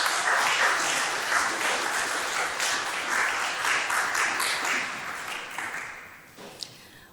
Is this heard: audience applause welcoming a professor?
yes